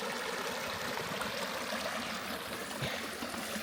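A mountain river at about 2300 metres altitude, flowing among red rock, rushes and burbles in a steady, full roar that stays constant and close throughout.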